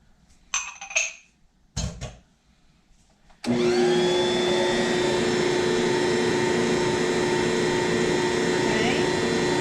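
An electric mixer beats egg and butter together for English muffin dough, starting abruptly after a few clinks and then whirring loud and steady with a constant motor whine.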